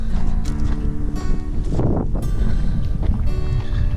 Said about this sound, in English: I know it's windy right here right now